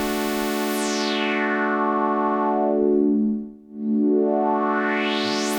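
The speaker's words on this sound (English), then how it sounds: "Let's have a listen to it with the resonance halfway up" A DSI/Oberheim OB-6 synthesizer holds a bright sustained tone through its 12 dB filter with resonance halfway up, the filter sweeping down to a dark dip and then back open, loud and alone.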